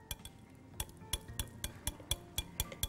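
Chocolate is gently folded into whipped cream for chocolate-orange mousse cups, with a utensil tapping the bowl in a steady run of light, close clinks and no talk.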